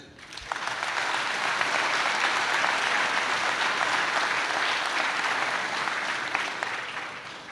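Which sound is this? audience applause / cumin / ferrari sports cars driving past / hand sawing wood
audience applause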